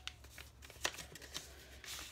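Paper birthday cards are handled close up, with soft rustling and flicking sounds in short bursts, fairly quiet and without talk.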